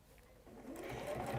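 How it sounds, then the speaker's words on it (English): A sewing machine stitching over pins in fabric, starting quiet and then running into a steady, close mechanical whir that grows louder and holds to the end. "I'm going to stitch over my pins."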